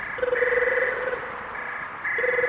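A phone rings for an outgoing call in a Gujarati comedy quiz-show sketch: steady electronic ring tones in repeating bursts with short gaps, fairly loud against a hissy background and no talking.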